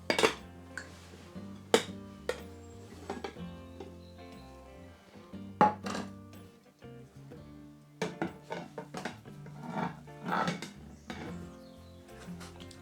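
A pan clatters and clinks while a potato frittata made with white and sweet potatoes is flipped, giving several sharp metallic knocks and rattles at close range with quieter scraping between them and no talk.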